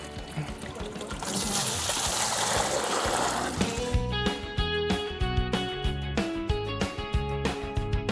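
Clear water pours steadily into a bucket in a Cuban neighborhood, a soft rushing splash lasting a few seconds before other clattering, tonal sounds take over.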